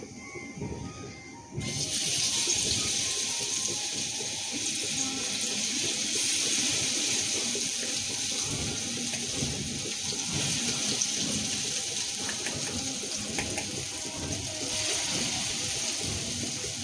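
Coconut fritters frying in hot oil give a steady, dense sizzling hiss that swells after a quiet start and holds evenly throughout, close by.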